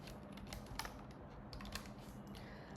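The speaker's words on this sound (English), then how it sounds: "I'm a bit slow at typing." Steady computer keyboard typing, with quiet rapid key clicks in an even stream over a soft constant background hiss.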